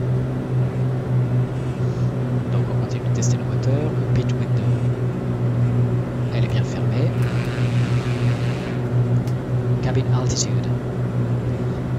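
A piston Duke aircraft engine runs in Microsoft Flight Simulator, a steady, droning hum that holds throughout the cockpit sound, with a voice talking over it.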